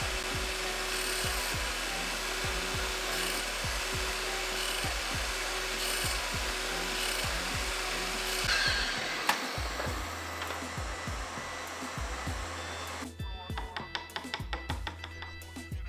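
A slide circular saw cuts wood for parts of a wooden Gundam model's landing gear, giving a sustained whining, grinding drone with repeated clicks and ticks, then a change in tone partway through.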